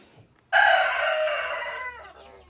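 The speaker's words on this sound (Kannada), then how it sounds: "ಕೋಳಿಗಳೆಲ್ಲ ಓಡ್ ಬಂದ್ಬಿಟ್ವು ನಾನು ಫುಡ್ ಹಾಕ್ತೀನಿ ಅಂತ" Chickens gather for feed in a yard, and a rooster gives one clear, fairly close crow lasting about a second and a half before it fades out. No one speaks.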